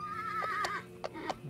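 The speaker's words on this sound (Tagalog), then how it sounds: "May kabayo." A horse in the Roblox video game neighs in one short, bright whinny, followed by a few soft hoof clip-clops close by.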